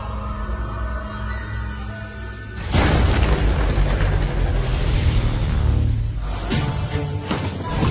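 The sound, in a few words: explosion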